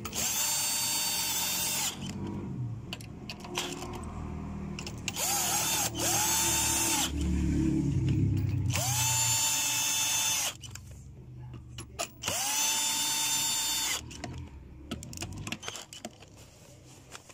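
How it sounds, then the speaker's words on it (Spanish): Power drill driving screws into an LG front-loading washing machine during a seal and bearing replacement, several separate whirring bursts of a few seconds each, with pauses and clinking of parts between them. "lo habíamos puesto con el taladro"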